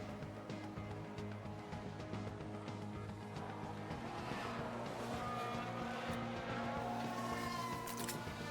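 A race car spinning out in the F1 Manager 22 racing game, with sustained engine roar and a rising tire squeal and skid building through the second half.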